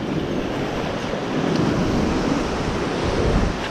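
Loud ocean surf rushes and breaks on the reef at Korotogo Bay, Fiji, a dense continuous roar with gentle swells in volume and wind buffeting the microphone.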